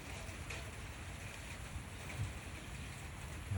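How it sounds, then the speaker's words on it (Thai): Rain falls on a mixed farm, a steady, soft, even hiss of drops with no clear individual impacts and no voices. "ฝนตก ฝนตกครับฝนตกนำความสดชื่นมาสู่คอกสู่แรงยาก"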